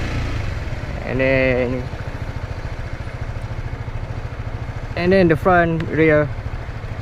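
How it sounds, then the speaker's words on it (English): A motorcycle engine runs low and steady in first gear as revs drop under engine braking, while a nearby voice speaks in two short bursts. "so gear 1, then you hear the engine brake"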